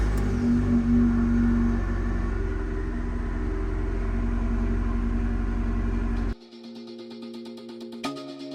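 An Abarth car pulls away with a loud, steady engine rumble and mild revving for about six seconds, then the sound drops off abruptly to a quieter hum with a brief knock near the end.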